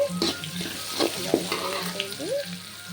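Green chillies frying in a pan while cooking egg paneer rice, a steady close sizzle with intermittent stirring clatter throughout, no talk.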